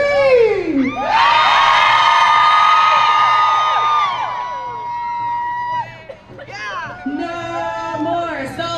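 A crowd at a rally screams and cheers loudly, with a sustained roar of many high-pitched voices and whoops for several seconds that fades, then scattered shouts rise again, close and intense.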